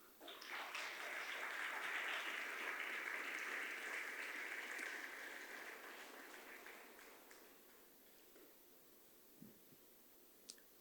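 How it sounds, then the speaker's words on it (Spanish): A church congregation claps during a Christian service, a broad swell of applause that peaks early, then fades gradually to quiet room tone with a few stray sounds. "Dale un aplauso al Señor."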